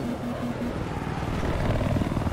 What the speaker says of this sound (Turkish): Oha, bir sürü helikopter var peşimizde.